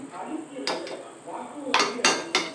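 Metal utensils clink and scrape against dishes a few times as curry-leaf upma is spooned into a serving bowl, with sharp taps near the end, over a low background hum.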